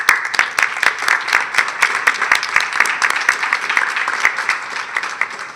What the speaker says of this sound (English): Would you all wave your hands so we can give you a round of applause?